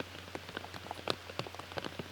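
Rain during a disc golf round outdoors, scattered raindrops tapping nearby surfaces in an irregular patter over a low steady background, no speech.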